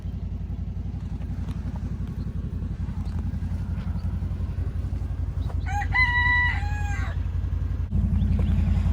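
A rooster crows loudly partway through on a farm, with chickens clucking around it over a steady low engine rumble that runs throughout.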